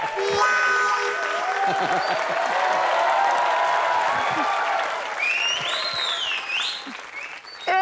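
Audience clapping during a Hindi comedy scene, a dense, loud, sustained wash of applause over background music, lasting most of the stretch before briefly dipping near the end.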